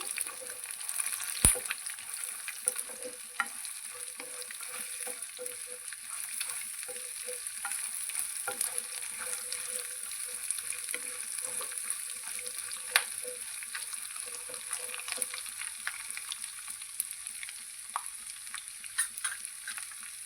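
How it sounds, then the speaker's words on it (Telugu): Fresh grated coconut fries in a pan for Andhra-style coconut peanut chutney, giving a steady soft sizzle with light stirring scrapes throughout, close but quiet and alone. "ఒక 2 నిమిషాల పాటు వేయించుకుందాం. ఇప్పుడు పుట్నాలు కూడా వేసుకొని వేయించుకుందాం."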